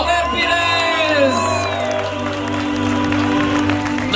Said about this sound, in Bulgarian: Ваши аплодисменти за...